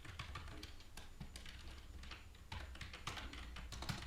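Rapid, uneven keystrokes on a computer keyboard, close and steady, with a few heavier key presses standing out, while a C++ text RPG is being coded.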